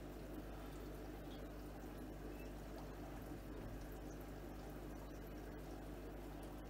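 Water pours steadily into a shrimp aquarium during a small partial water change, a continuous low rushing wash with no pauses and no voices.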